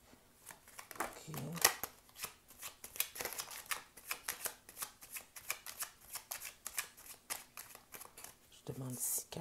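Tarot cards are shuffled close by in a quick, rhythmic run of soft papery riffles and flicks, with a voice speaking French now and then.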